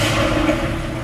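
Tuned VW Golf R MK8 running Stage 2, its engine droning steadily and loudly up close with a rough mid-range rumble and a hint of turbo noise.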